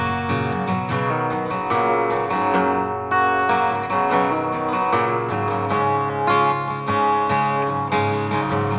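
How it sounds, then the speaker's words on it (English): Strummed and picked guitar through a vintage sound plugin, with a warm, aged, slightly boxy tone, playing continuously at an even level with no voices. "Or a vintage sound like this one."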